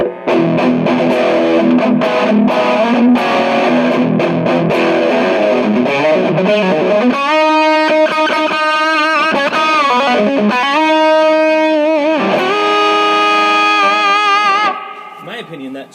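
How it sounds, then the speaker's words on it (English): Distorted electric guitar through a Mesa/Boogie .50 Caliber+ 50W combo amp with gain near 8 and its 5-band EQ engaged, playing chugging chords then ringing sustained notes and bends, loud and close with no talking. "The 5-band EQ with the distortion on will sound like this."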